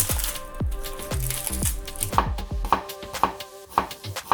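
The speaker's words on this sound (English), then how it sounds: "chop your onion." A knife chopping an onion on a cutting board for a Korean spicy pork dish, with a quick, steady run of close, crisp thuds, about two per second.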